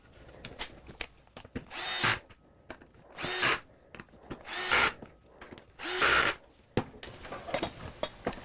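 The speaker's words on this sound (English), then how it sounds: "Now mark and pre-drill the holes" A power drill pre-drilling holes in wood whines in four short bursts, each a second or so long, with pauses between them. Scrapes and handling noises fill the gaps.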